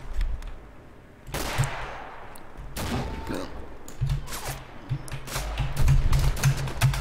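Bursts of rapid gunfire from the shooter game Mare Nostrum, several volleys in quick succession, fairly close, with muffled game sounds between them.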